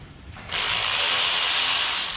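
A wrench or ratchet works a brake caliper guide pin loose on a MazdaSpeed3, giving a quiet mechanical clicking for half a second before a loud, steady, hissing grind takes over and runs to the end, with no talking.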